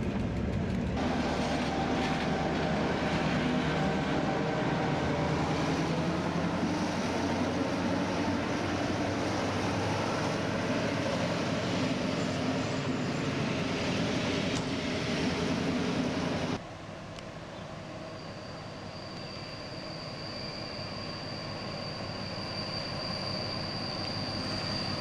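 A train hauled by Nohab diesel locomotives (M61 010) passes between Balatonmáriafürdő and Bélatelep in Hungary. A loud, sustained roar of engines and rolling wagons cuts off abruptly midway, then gives way to a quieter, rising rumble.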